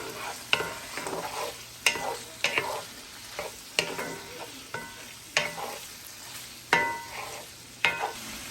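Onions sauté in olive oil in an iron skillet, a bright sizzle swelling with repeated rhythmic scrapes as they are tossed and stirred.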